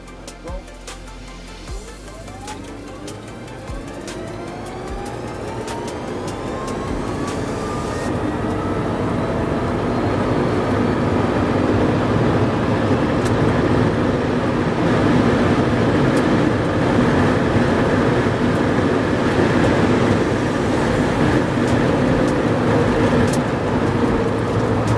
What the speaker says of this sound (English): the Rimac Nevera manages to hit the same speed and even go faster, but does it while driving backwards